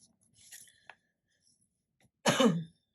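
A person with a lingering cough clears their throat softly, then gives one sharp, close cough near the end, with quiet handling noises between them.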